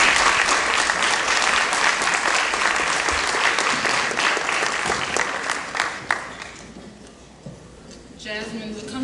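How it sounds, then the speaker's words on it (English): Steady audience applause at a school board meeting welcomes a student speaker, dense and even for about six seconds, then thinning to scattered claps as a voice starts to speak near the end. "Give her a round of applause."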